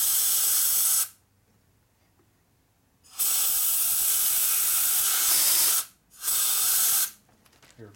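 Compressed air hisses loudly through the oil hole of a rebuilt 1958 Harley-Davidson FLH panhead 74ci flywheel connecting rod, in three strong bursts of roughly two, three and one second separated by short silences.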